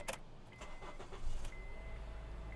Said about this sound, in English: that cold start chatter, I thought these were timing belt cars